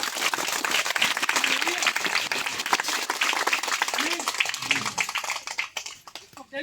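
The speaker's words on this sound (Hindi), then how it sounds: "जोर से एक बार ताली बजा दीजिए" Loud, dense applause from a church congregation at a Hindi prayer service, steady clapping for several seconds that thins out near the end, with voices mixed in.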